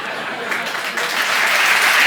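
Audience applause fills the whole stretch as a dense, steady clatter of many hands clapping, swelling a little louder toward the end, with some voices faintly mixed in.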